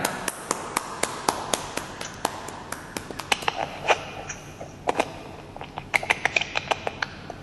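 Scattered individual hand claps from an online audience after a group presentation, sharp separate slaps at an uneven pace, some close and some thin and distant, with no crowd swell behind them.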